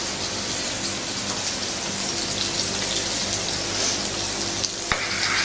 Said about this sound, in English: we're going to throw in some fresh garden peas and the broad beans